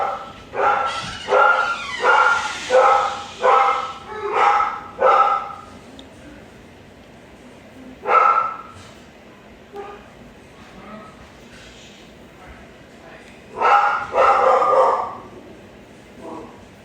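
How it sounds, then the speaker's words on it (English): Several dogs bark in loud, irregular bursts, a rapid cluster at the start, then single barks and a later flurry, with quieter gaps between. "So my dogs are barking"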